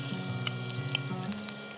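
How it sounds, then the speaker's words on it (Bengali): Rohu fish shallow-frying in hot oil, a steady close sizzle with a few soft pops and faint clinks, no voices. "আমি এখন মাছটা হচ্ছে ভেজে নিব।"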